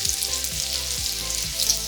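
Bacon fries on a Ninja Sizzle griddle, a dense crackling sizzle with popping fat, loud and close and steady throughout.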